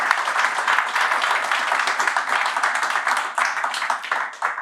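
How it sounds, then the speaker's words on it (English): An audience at a One Voice Blackburn show applauds, a dense, steady wash of clapping that holds for a few seconds at moderate distance. "please give a round of applause for Shabaz Ali"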